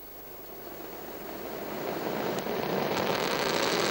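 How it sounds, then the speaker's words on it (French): Ariane 5 rocket engines roaring at launch, a broad distant rumble that builds steadily in loudness over a few seconds, heard alone without talk. "Les réacteurs se mettent en marche. Arianespace devrait décoller. Voilà, elle décolle."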